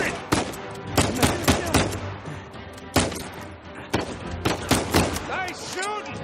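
Repeated gunfire in a video game firefight, sharp loud shots in irregular bursts across the whole stretch, with voices calling out between them.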